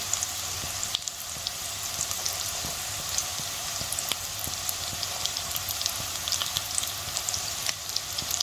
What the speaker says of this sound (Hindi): और इनको अच्छी तरह फ्राई करेंगे